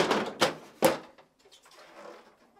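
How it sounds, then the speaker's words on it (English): The upper freezer drawer of a GE French door refrigerator is pulled forward and lifted out, giving a few sharp plastic clacks and knocks followed by quieter scraping and rattling, close up. "Then pull the upper drawer forward and tilt it up and out."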